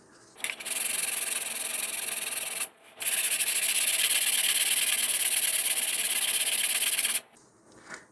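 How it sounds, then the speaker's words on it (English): Sandpaper rubs back and forth over filler putty on an Estes "Der Big Red Max" model rocket, a loud, steady rasping in two long bursts with a short pause between, close up with no talking. "most of the putty is being sanded away, and it's only being left behind in the low spots"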